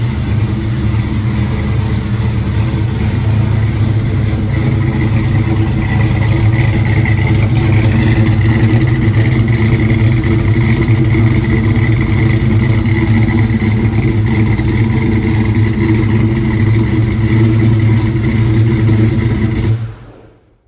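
A loud, deep 363ci Windsor V8 with a Harrop supercharger in a street car rumbles and revs steadily for a long stretch, with a brief rise midway, before cutting off abruptly at the end.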